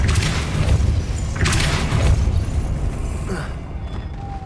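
Depulso force spell cast in the video game Hogwarts Legacy: a deep booming thump with a rushing whoosh, followed by a second blast, then fading into a thin magical shimmer.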